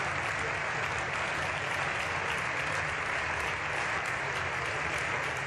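Steady, dense applause from a large crowd, like a thunderous ovation, holding at an even level throughout before cutting off abruptly at the end.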